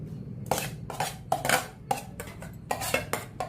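A small sambar pot and steel kitchenware clatter on a home stove, with a series of sharp metallic clanks and knocks coming in irregular bursts, close by and moderately loud, with no talking.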